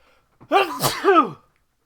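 A single loud, close sneeze with a sharp intake of breath followed by a forceful burst, heard alone in a quiet room.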